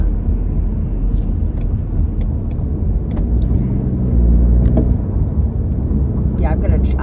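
A car drives along the 118 freeway in Los Angeles, its steady low road rumble and tyre roar continuous throughout, with faint clicks and light noises inside the cabin.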